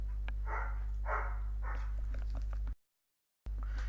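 A dog barks and yips several times in short bursts, fairly close, over a steady low hum, with a brief dropout near the end.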